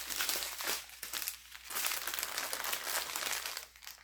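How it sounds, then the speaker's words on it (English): Plastic packaging from a Dreamer Design diamond painting kit crinkles and rustles in close, uneven bursts during unboxing, fairly quiet, with short pauses between handfuls. "sorry for all the crinkling."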